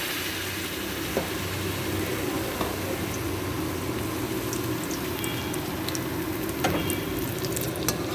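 Balls of cheese, potato and bread frying in hot oil give a steady, even sizzle with a few faint pops and crackles, close and with no talking.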